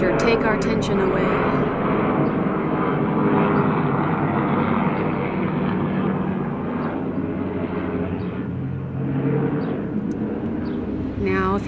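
An aircraft engine drones steadily overhead, a broad continuous rumble that holds at an even level for over ten seconds during an outdoor full moon meditation ceremony.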